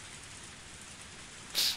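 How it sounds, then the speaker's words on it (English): Intense rain falling outside a parked car at night, a steady dense wash of noise throughout with a brighter, louder splash near the end. "The rain was still pretty intense."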